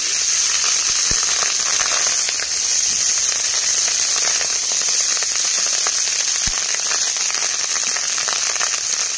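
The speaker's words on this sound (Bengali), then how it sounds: "রাইসটা কড়াইয়ের মধ্যে দিয়ে দিচ্ছি।" Rice being stir-fried with white oil in a hot kadai, a loud, steady, close sizzle with a bright hiss and occasional faint clicks of stirring.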